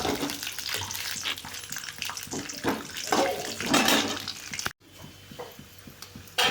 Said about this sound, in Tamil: பாருங்கள், பச்சை கடலை போட்டு ஒரு வதக்குறோம்.